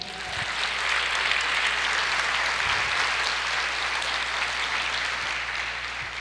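A church congregation claps steadily and loudly for several seconds, a dense, continuous wash of applause.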